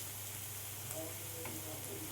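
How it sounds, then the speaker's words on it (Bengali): Ginger-garlic paste frying with onions in a pan gives a constant soft sizzle, even and unbroken, with a few faint stirring scrapes. "আদা রসুন বাটাটা দিয়ে আবারও আমি ভালো করে 2-3 মিনিট ধরে আমি ভালো করে পেঁয়াজের সাথে আদা রসুনটা ভেজে নেব।"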